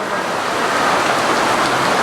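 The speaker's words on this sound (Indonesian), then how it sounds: "Wah, ini hujan ya." Steady rain falls in an even, dense hiss, close and fairly loud, with no break or change in intensity.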